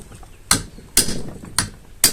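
Four sharp, loud hammer strikes land at a steady rhythm during Ford car suspension repair, each a bright metallic impact close by, with a low hum in between.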